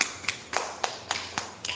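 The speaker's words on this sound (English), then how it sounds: "Clap for Lasya." A few people clap for a student in a classroom, sparse, uneven single claps spaced roughly a quarter second apart, sharp and fairly close, with no talking.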